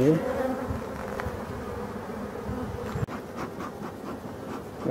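Honey bees drone steadily around a hive super during an angelica-honey harvest, a dense continuous buzz close by, with a brief knock partway through.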